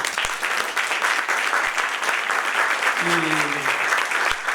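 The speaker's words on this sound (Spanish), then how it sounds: "Pediría un aplauso para él." An audience at a talk applauds to welcome an ambassador, with sustained, loud clapping from many people throughout and a few voices mixed in beneath it.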